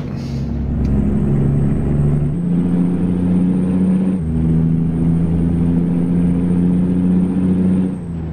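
A Kenworth T990 truck in American Truck Simulator revs loud and steady in the low range, its pitch stepping down and climbing again through two or three gear shifts, with a faint high whine above.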